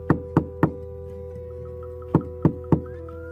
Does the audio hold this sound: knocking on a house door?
yes